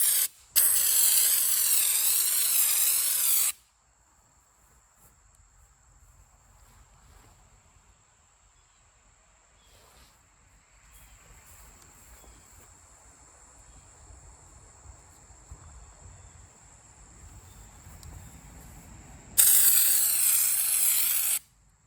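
A spray gun shoots Raptor Liner texture coating onto a VW pan in two loud, harsh hissing bursts, one at the start lasting a few seconds and another near the end, with a quiet background between them.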